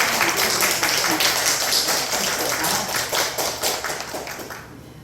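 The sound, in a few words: church congregation applause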